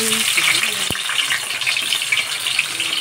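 Garlic sautéing in a hot pan gives a steady, loud, bright sizzle throughout, with a single sharp knock of a utensil against the pan.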